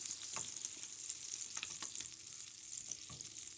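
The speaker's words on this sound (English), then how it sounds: "let's get this butter melted" Butter melts and sizzles in a pan, a steady bright frying hiss with small irregular pops and crackles, close and alone without talk.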